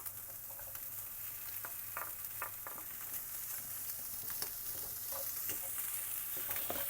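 Red meat frying in a pan with a faint, steady sizzle, broken by scattered scrapes and clicks of a spoon stirring it.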